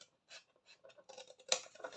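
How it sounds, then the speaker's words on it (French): Fiskars scissors snipping cardboard during a candy dispenser box craft, a few short close crisp cuts with a sharper louder snip near the end. "Ces ciseaux-là vont vraiment bien. Hein. C'est des Fiskars."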